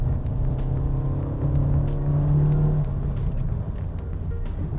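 A 2020 Suzuki XL7 with a 1.5-liter engine and automatic transmission accelerates steadily from inside the cabin. The engine drone rises in pitch, then shifts and settles under constant road rumble, with no one talking.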